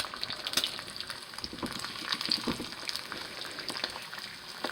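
Eggs fry in a pan on a stovetop with a steady, soft sizzle and crackle that runs without a break, and no one speaks.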